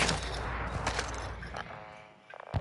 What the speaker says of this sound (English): Definitely a lot of explosions going on.